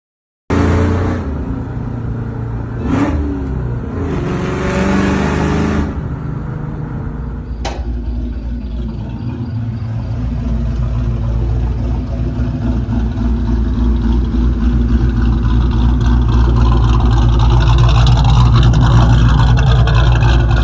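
A Ford Mustang Bullitt engine rumbles loudly and continuously while driving at night, with a few sharp shift breaks early on, then a steady, building roar.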